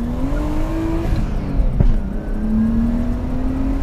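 Nissan R32 Skyline engine revving hard as the car accelerates, a rising whine climbing through the gears with a brief shift dip midway, loud and close throughout with no talking.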